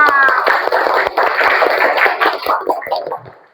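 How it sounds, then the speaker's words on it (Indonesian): A group of people clapping together at an indoor school session, brisk rhythmic claps with voices mixed in, tapering off toward the end. "tepuk tangan untuk kita semua."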